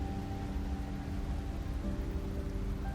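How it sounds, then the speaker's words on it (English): Steady rainfall in the video game Slay the Princess, a constant hissing patter with a soft low rumble beneath and faint sustained tones, no voices. "It's raining."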